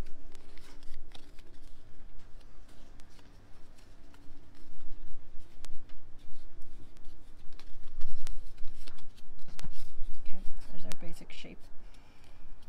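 Crisp crackling and scraping of birch bark being folded in half and creased by hand, with sharp rustles and rubbing bursts close up while someone talks intermittently over the work.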